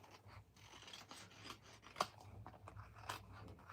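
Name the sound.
scissors fussy cutting paper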